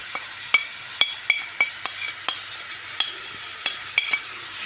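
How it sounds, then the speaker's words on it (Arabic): Sliced onion fries in a pan for chicken liver, a steady bright sizzle with repeated sharp clicks and scrapes of a utensil stirring against the pan, close and without talk. "دابا غنشحر هاد البصيله"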